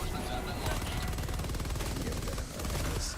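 Stalwart machine gun from Helldivers 2 fires in a sustained rapid burst lasting a few seconds, dense and loud throughout, with a voice speaking over the gunfire.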